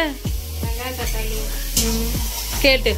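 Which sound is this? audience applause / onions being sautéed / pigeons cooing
onions being sautéed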